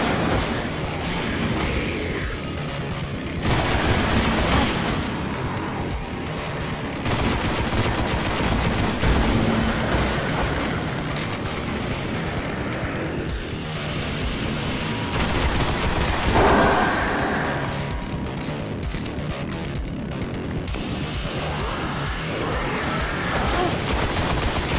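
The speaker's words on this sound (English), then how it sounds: "So that is a fusion rifle right" Fusion rifle fire in the Destiny video game: dense, sustained bursts of energetic weapon shots and booms, loud and continuous with brief dips, amid busy combat noise.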